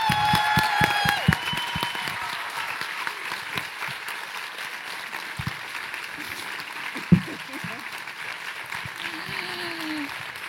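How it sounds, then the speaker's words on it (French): Audience at a popular-science storytelling evening applauding two presenters, steady clapping running throughout at moderate level, with a few voices and a brief sharp knock partway through. "je vous demande de faire un tonnerre d'applaudissements à Gabriel Gagnon et Sylvie"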